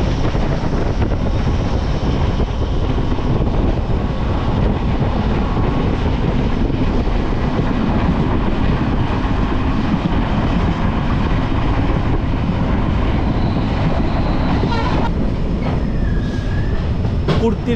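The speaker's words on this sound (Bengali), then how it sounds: "আমাদের ট্রেন ঢুকছে চালসা রেলওয়ে স্টেশনে।" The Dooars Vistadome tourist express, train 15777 from Siliguri, runs on rails near Chalsa station. A loud, continuous rumble and rattle of wheels fills the coach throughout, with a brief higher squeal near the end.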